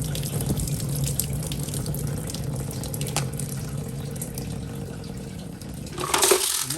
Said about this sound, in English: And then I let all the water drain out.